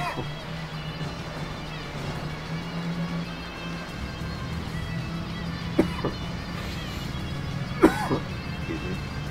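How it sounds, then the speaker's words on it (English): A person gives a couple of short, sharp coughs a few seconds apart over a steady low background hum. "Having a little cough."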